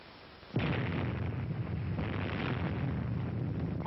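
Nuclear test explosion from Operation Crossroads at Bikini: after a quiet rumble, a sudden loud boom hits and rolls on as a sustained, heavy roaring rumble.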